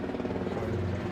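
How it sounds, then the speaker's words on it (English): A helicopter flying overhead outdoors, a low, steady rotor rumble heard faintly and continuously with no other sound over it. "Helicopter up there."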